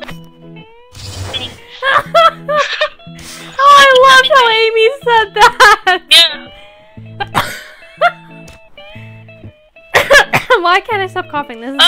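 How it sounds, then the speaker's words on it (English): Someone coughs repeatedly in short bursts during a lively game of UNO, mixed with excited talking and laughter from the players. "Why can't I stop coughing?"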